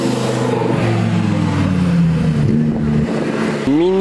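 An Italian STO supercar accelerates along a street in Knokke, its engine note climbing and shifting close by, then a sharp rising rev at the end.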